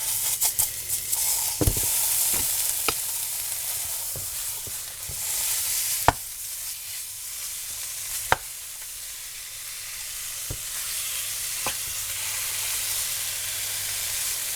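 Ground turkey frying in a very hot pan for cottage pie, a steady broad sizzle with occasional stirring clicks and scrapes of the utensil against the pan, close and continuous without talk.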